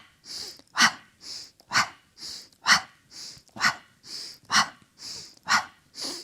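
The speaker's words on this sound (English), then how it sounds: "Pumping the breath." Rhythmic pumping breaths during a bridge exercise, quick forceful exhales alternating with sharp inhales in a steady, even pulse, close and clear with no talking.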